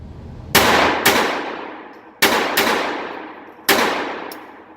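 Phoenix Arms .22LR pistol firing five sharp, loud shots in uneven pairs, each crack followed by a long decaying ring, with no talking.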